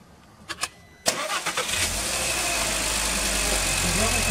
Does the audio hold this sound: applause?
no